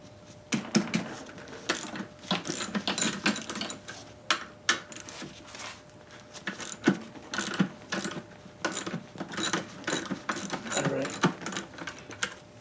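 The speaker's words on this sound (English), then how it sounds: "Be a good idea if I put a ½ inch socket on there, huh?" A ratchet with a half-inch socket clicks in quick bursts while loosening bolts on a vintage car bucket seat, the rapid pawl ticking close and repeated with short pauses between runs.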